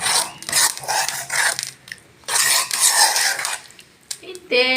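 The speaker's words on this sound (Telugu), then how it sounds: "ఆ కళాయిలోనే పచ్చడి వేసి ఆయిల్ ఉంటుంది కదా ఆయిల్ బాగా కలిపి బాగా కలుపుకోండి" Gongura chutney is mixed into oil in a kadai, with loud scraping of a metal spoon against the pan in bursts separated by short pauses and a brief clatter at the end.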